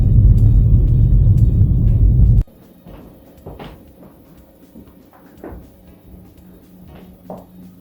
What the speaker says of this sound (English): Got the wash machine doing some break dancing. Can be a bit loud.